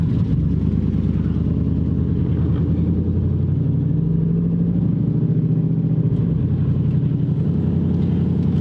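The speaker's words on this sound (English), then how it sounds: "Alright guys, let's go for a drive. Squatted truck." A squatted Chevrolet Silverado pickup truck drives along with a loud, steady engine rumble heard from inside the cab, its low drone shifting slightly in pitch as it moves, with no talk.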